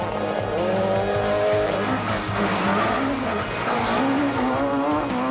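World Rally Championship cars race through heavy rain and deep mud on a 1997 spectator stage, with engines droning loudly and continuously and rising and falling in pitch as they pass close by.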